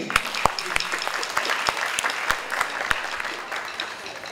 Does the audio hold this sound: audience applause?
yes